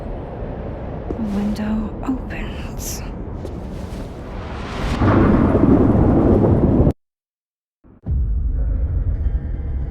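Thunderstorm in the video game Life is Strange Double Exposure: rumbling thunder and rain build to a loud roar, cut to near silence briefly, then return, with faint game sounds early on.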